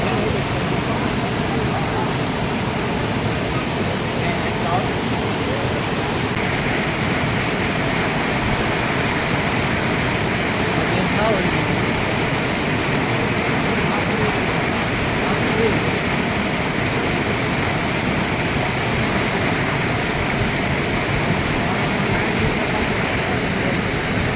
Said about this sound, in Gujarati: પાણી કેટલું ઉફાળા મારે છે તમે જોઈ શકો છો મિત્રો ધોમ વરસાદ આજે આવ્યો છે